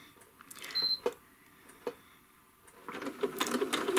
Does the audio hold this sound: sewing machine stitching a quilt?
yes